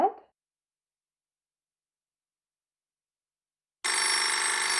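An old-time radio drama telephone rings in a bright, continuous electric bell burst that starts abruptly near the end after a brief voice and a stretch of silence.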